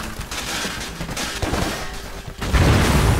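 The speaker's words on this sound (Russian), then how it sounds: "Бум, да, все повзрывали." Rapid bursts of video game blasts and gunfire-like booms from Stranglehold roll continuously, loud and dense, ending with a heavier low rumble.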